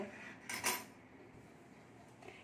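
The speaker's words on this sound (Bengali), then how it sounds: "এখানে আমি ভালো করে বাটিগুলো তুলে নিচ্ছি সবগুলো" Bowls lifted and set back down after baking a simple two-egg cake, a couple of quick light clinks of dishware close by in an otherwise quiet room.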